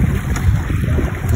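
Outboard boat motor running steadily on a forest lake in Canada, a continuous low engine drone with wind and water noise, no talk.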